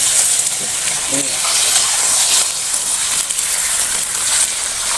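Loud, steady sizzling and crackling as beaten chicken egg is poured into hot oil in a pan.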